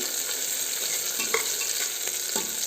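Ingredients for pachi anapaginjalu pulihora fry in a pan, a steady close sizzle with a few brief stirring scrapes near the middle and end, no talking.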